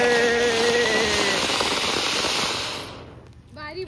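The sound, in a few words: Diwali fountain firework burning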